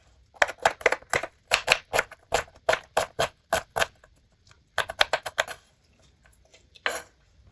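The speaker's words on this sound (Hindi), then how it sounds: "प्याज के भी आपने छोटे छोटे पीस कर लेने हैं।" Onion being chopped into small pieces for mustard greens saag: a quick run of sharp knife strikes on a board, bursts of rapid chops with brief pauses and one last isolated cut, close and clear with no talking.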